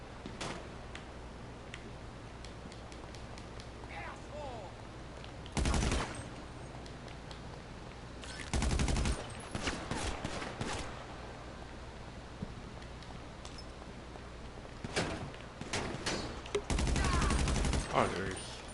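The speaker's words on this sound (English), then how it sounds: "Where are they shooting from?" GTA Online gunfire in scattered bursts, with sharp loud volleys and rapid automatic fire breaking out several times across a steady background hum, some shots close and others more distant, alongside occasional talking.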